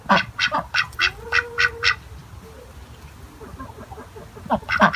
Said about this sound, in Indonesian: Wow, ini hewan bebek.